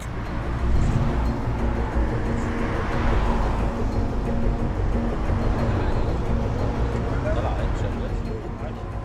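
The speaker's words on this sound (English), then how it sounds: "Now we are in Cairo, welcome by crowded traffic." Crowded Cairo street traffic rumbles steadily in a dense, low wash of engines and road noise, close and continuous, while someone talks over it.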